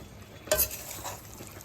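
Spice powder hits a pan of okra masala curry with a brief burst of sizzle, then a softer, steady frying hiss for a moment.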